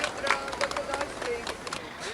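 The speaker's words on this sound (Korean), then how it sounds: "한번 박수 한번 치겠습니다" A tour group in Pula, Croatia claps briefly in scattered bursts to greet their local guide, the applause mixed with a voice and outdoor chatter.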